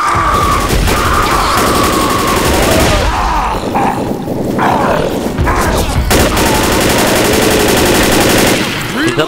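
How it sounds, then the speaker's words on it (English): Rapid Gatling gun fire in the video game Left 4 Dead, a loud, dense burst of shots running almost without break through a chaotic co-op raid, with booms and crashes mixed in. "Get on the Gatling gun, here he comes!"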